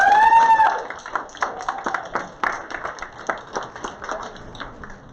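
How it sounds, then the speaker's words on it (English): Scattered clapping from an awards ceremony audience thanking event sponsors, distinct individual claps rather than a dense roar, following a brief tone at the start. "Please help me in thanking them for their generosity and support for today's event with a round of applause."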